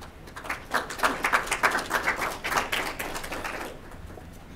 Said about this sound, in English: I'm sure Sir Jerry will appreciate that round of applause travelling through the Wi-Fi and internet.